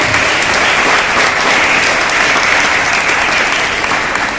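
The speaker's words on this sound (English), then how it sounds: "give a big round of applause to the chief guest" An audience at a college investiture ceremony gives the chief guest a big round of applause, steady dense clapping from a large crowd that fills the room evenly throughout without a pause.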